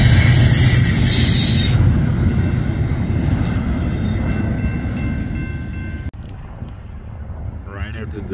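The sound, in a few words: westbound train passing on the inner track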